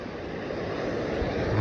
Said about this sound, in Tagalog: Mukhang tagilid tayo ngayon lakas ng alon, ang taas pala ng alon